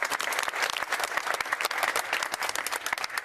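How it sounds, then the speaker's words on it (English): A studio audience at a snooker event claps for a four-time world champion, crisp individual hand claps audible within a lively, moderately loud round of applause. "Round of applause, please, Mr. John Higgins."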